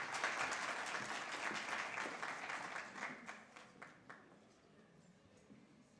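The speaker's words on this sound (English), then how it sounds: "Let's give him a warm round of applause" An audience at an International Migrants Day 2023 event applauds a guest, the clapping loud and sustained at first before thinning out and fading to scattered claps.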